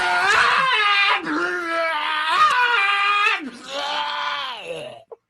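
A voice imitates someone screaming while vomiting, giving a long, strained, wailing scream with gagging breaks that tails off in a final choked gurgle.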